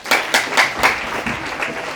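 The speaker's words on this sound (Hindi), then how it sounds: "इनके लिए तालियां बजाइए" A brief burst of audience applause at a meditation talk for medical students, with a pulsing, rhythmic patter of many hands clapping together, close and moderately loud, with no speech.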